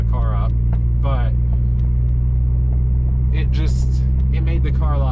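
A car freshly fitted with a new ECU runs with a steady low engine rumble throughout, held back from hard revving while it warms up, and someone talks over the engine sound.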